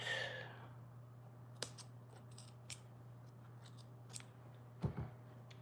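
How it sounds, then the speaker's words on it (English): Scissors snip through denim jeans fabric in a few sharp, separate cuts spread over several seconds, close and alone against a quiet room hum. "I had to cut one little part just to allow me to fold the seam back."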